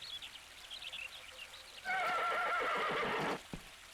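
A horse neighs loudly in a video game, a single whinny lasting over a second over a soft patter of rain, followed by a short thump.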